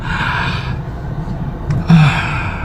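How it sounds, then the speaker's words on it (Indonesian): A single long, breathy inhale over faint background hiss, ending in a short rush of air. "kamu tarik napas ya panjang-panjang. Tarik napas"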